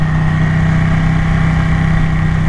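A Ducati 1199 sports bike engine fitted with a full titanium Termignoni exhaust runs at a steady idle, a loud, close, even rumble holding constant throughout.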